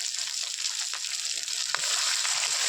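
Mutton curry masala with cumin paste and chopped tomato sautés in hot oil, producing a continuous close frying sizzle with light stirring taps, swelling slightly louder toward the end.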